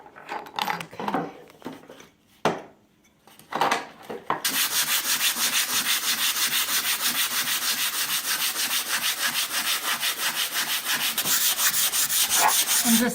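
150-grit sandpaper is rubbed over a wooden end table in a steady, rhythmic back-and-forth rasp that runs continuously after a few brief, scattered handling sounds at the start.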